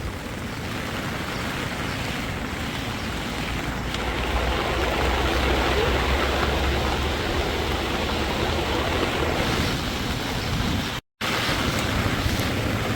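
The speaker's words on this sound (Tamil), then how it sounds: "எப்படி தண்ணி ஓடுதுன்னு பாருங்க" Floodwater rushing steadily through Kilinochchi district under a red weather alert, a continuous broad roar of churning water that stays loud and even throughout, with a brief dropout near the end.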